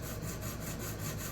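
A knife edge is rubbed on a budget diamond sharpening plate, giving a continuous soft, close scraping hiss with faint regular back-and-forth strokes.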